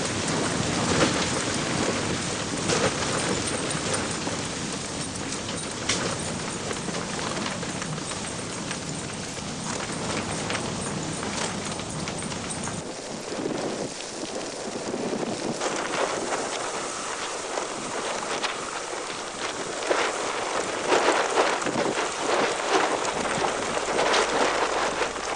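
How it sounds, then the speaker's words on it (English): Heavy rainstorm at a remote DXpedition camp, a loud continuous roar of rain on surfaces with rumbling thunder, intensity shifting midway and swelling again toward the end. "from the 4th day on the camp was hit by storm after storm"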